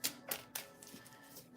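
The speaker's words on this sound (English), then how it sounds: "I'm going to do 3 shuffles." A deck of tarot cards is shuffled in short, quiet bursts, a few soft riffling flurries separated by brief pauses, close and faint.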